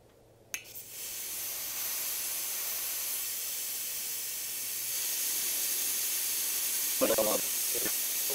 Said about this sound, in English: Starting to get some propane out of there